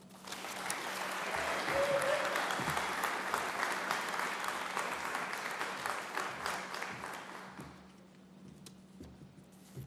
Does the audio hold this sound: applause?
yes